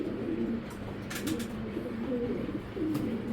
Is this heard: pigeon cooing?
yes